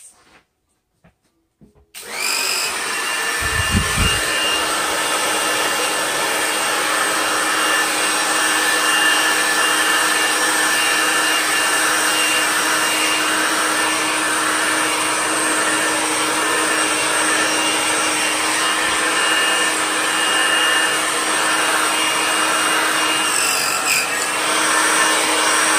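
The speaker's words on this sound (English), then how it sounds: "I'm going to get out my blow dryer" Blow dryer blowing a steady, loud whooshing roar over a wet acrylic and resin beach wave painting, starting after a brief click and running continuously up close for over twenty seconds without talk.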